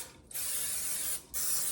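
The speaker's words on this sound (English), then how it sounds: "you're going to take your spray" Cooking spray is sprayed along the edges of a large casserole dish for a hamburger casserole, giving two long, close hissing bursts with a short pause between them and no talking.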